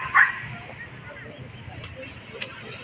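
A dog on a seaside boulevard in Dipolog gives a couple of short barks, one at the start and one at the end, against faint outdoor background with people talking nearby.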